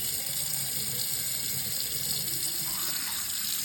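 Tap water runs steadily into a container, a continuous close gushing wash of liquid that holds at an even level throughout with no voices.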